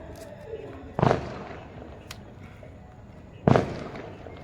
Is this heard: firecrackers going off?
yes